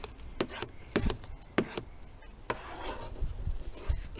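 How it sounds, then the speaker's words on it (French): A spoon scoops snow off a slide outdoors, making several short crunchy scrapes and rubs, close and fairly quiet, with no talk. "Vas-y, Agathe, ramasse la neige à la cuillère."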